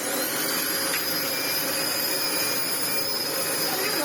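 Dyson DC25 upright vacuum cleaner running without its filters, a loud, steady whooshing roar with a thin high whine that holds constant throughout.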